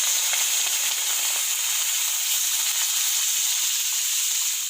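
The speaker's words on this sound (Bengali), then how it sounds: "কড়াইয়ের তেল আমাদের গরম হয়ে গেছে, এবার আমরা এতে দিয়ে দেবো চিংড়ি মাছ" Shrimp frying in hot mustard oil in a wok, a steady, dense sizzle that holds loud and even throughout without pause and with no voices.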